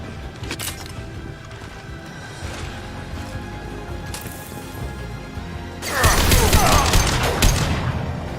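Squad gunfire erupts in the Mass Effect game, a dense loud burst of shots after a stretch of quieter ambience and movement, with rapid overlapping bangs continuing to the end.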